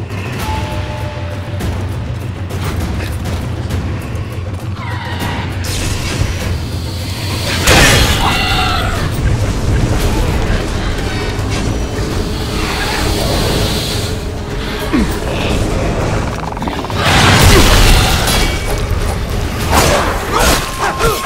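Firecracker explosions in the video game Shadow Warrior, loud sharp booms and crackling bursts scattered over dense, noisy combat sound effects, with two prominent blasts standing out, no talk.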